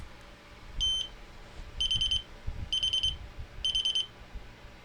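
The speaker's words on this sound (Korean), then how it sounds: "이제 삐삐삐삐 소리 잘 들렸을 겁니다" An Arduino buzzer gives one short high beep, then three evenly spaced bursts of rapid beeps, sharp and clear over a low background rumble.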